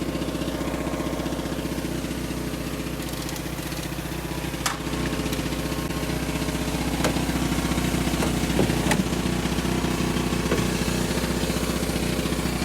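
A generator strapped down in the back of a GMC Sierra service truck runs at a steady drone for the whole stretch, with a few faint clicks and knocks over the hum.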